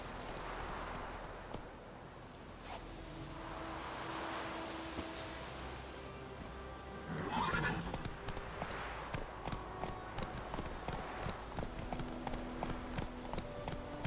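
Rhythmic hoof clip-clops of a galloping horse in The Witcher 3 video game, steady and fairly close, with the beat turning sharper and more distinct in the second half.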